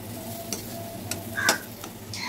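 A spoon stirs and scrapes mashed pointed gourd paste around a kadai, producing a few distinct scraping strokes over a soft, steady background. No one speaks.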